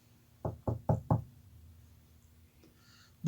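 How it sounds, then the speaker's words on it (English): Four firm knocks on a door land in a quick, even series, close and resonant against a quiet room, followed by near silence and a faint thump at the very end. "Somebody knocks on my door."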